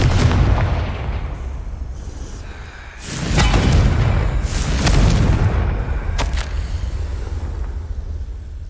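A Confringo spell in Hogwarts Legacy bursts with deep, booming blasts and rumbling impacts, loud and close, with a few sharp cracks layered over a continuous roar.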